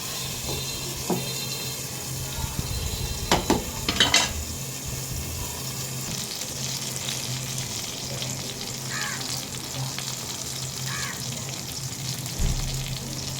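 Eggplant slices frying in oil in a pan: steady close sizzling and crackling throughout, with occasional scrapes and clinks of a utensil against the pan.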